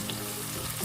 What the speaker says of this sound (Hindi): जैसे ही ऑयल गर्म हो जाएगा इसमें मैं 1 कट की हुई प्याज है वो ऐड कर रही हूँ।